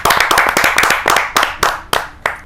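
A poetry gathering's audience on stage applauds in strong, separate bursts of clapping, about ten sharp claps spaced out and slowing, each one loud and close, with no voices over them.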